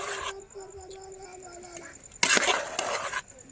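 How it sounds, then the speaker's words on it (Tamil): Packed rice being stirred in a pot, heard as scraping and stirring clatter at close range, with a louder burst of stirring near the end over a steady background hiss. "கிண்டி விட்டுக்கிறோம்."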